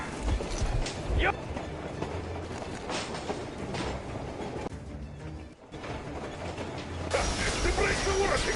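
A moving train in the video game Metro Exodus rumbles and clatters with rhythmic mechanical clanks and metallic brake noises, loud and continuous, with voices speaking over it.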